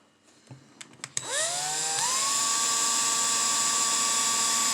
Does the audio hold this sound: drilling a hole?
yes